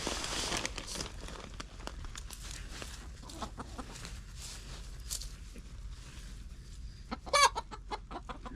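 Backyard chickens clucking softly around a coop among rustling and scratching, faint and scattered, with one louder squawk near the end.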